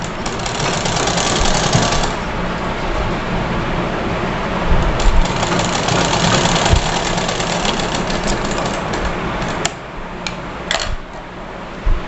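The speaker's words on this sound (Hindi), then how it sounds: "बाकी के जितने भी हमारे कपड़े हैं सबकी हम इसमें सिलाई लगाते हुए चले जाएंगे" An electric sewing machine runs steadily, stitching fabric for a young girl's frock, its motor whirring with a dense mechanical chatter that holds nearly unbroken for the whole stretch, dipping briefly near the end, with no talk over it.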